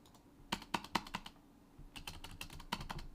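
Fast bursts of clicks on a computer keyboard, close and fairly loud, with a short pause before another flurry of keystrokes; no one speaks.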